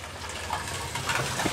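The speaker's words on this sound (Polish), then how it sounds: "taki potoczek sobie tutaj wprowadza do tej przestrzeni" Small water channel running through an ornamental garden space at Málaga's castle, a continuous gentle gurgling flow close by, steady and fairly quiet with a few brighter splashes.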